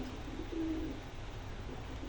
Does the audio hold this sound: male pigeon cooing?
yes